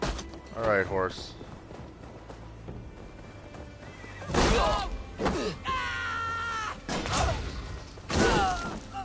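A horse in Assassin's Creed Valhalla neighs and whinnies several times, loud and close, with a few hoof thumps and snorts between the calls.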